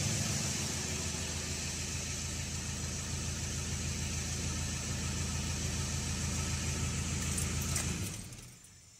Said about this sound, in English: I will start it a few times just to see if the car is starting very good